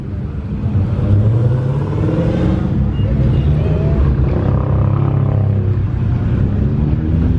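Dodge Hellcat pulling out for runs at a car meet, a deep loud engine rumble that swells and revs under background crowd chatter.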